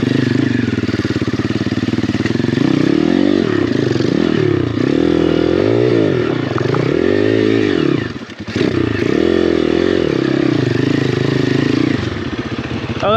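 An Apollo RFZ Enduro dirt bike rides a trail, its loud, close engine droning and rising and falling in pitch as the throttle is worked, with clattering and a brief dip before it pulls again.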